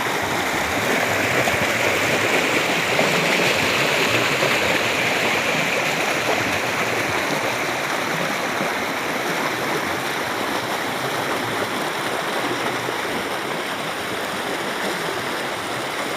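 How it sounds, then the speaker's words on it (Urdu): Clear mountain water of the Babul canal rushing down from Gulmarg's Athroot mountain beside the Srinagar–Gulmarg road, a steady broad close-up hiss of flowing water with no pauses. "گلمرگ کے اتھروٹ پہاڑ سے آتا ہوا یہ صاف و شفاف پانی"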